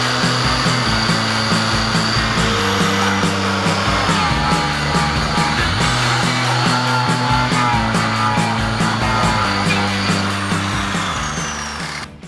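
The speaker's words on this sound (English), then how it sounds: "I grinded all of the rust away here and gave it a quick layer of paint." Rust being ground off the body of a Mazda Miata during a 1.6 to 1.8 engine swap: a loud, steady power-tool whine runs continuously for about twelve seconds, then tapers off at the very end.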